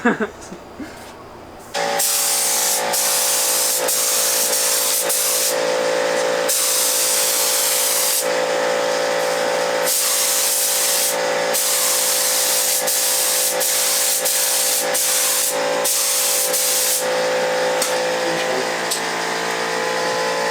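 A loud, steady hiss of a spray gun runs almost continuously after a brief pause, broken by short gaps, with a compressor-like hum beneath.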